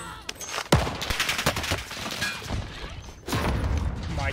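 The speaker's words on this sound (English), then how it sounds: "We're taking fire." Video game gunfire crackles in rapid bursts and single sharp shots, with explosive booms mixed in, loud and close throughout a hectic firefight.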